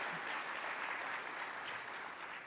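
An audience at Santa Ana's 2026 State of the City address bursts into dense, sustained applause that fills the room, steady and fairly loud throughout, with no talk over it.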